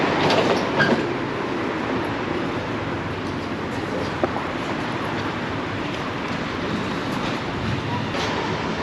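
A Paris metro train rumbles past up close, giving a steady, loud roar with faint rail clatter through the whole stretch and no talking.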